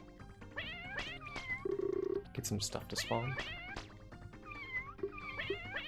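Cartoon cat meows repeat throughout from the video game Addams Family: Pugsley's Scavenger Hunt, several short yowls in quick succession beneath someone talking over the game.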